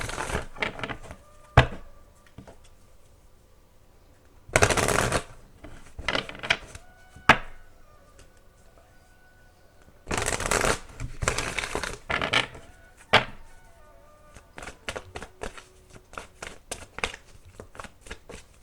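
Crisp bursts of tarot cards being riffled and shuffled, several loud clusters separated by quieter taps and handling noises, close up with no talking.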